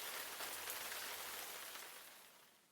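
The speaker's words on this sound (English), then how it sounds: "That night, the wind blew and the rain pounded down." Heavy storm rain pours down as a dense, steady hiss of drops on surfaces, quiet overall and slowly fading toward the end.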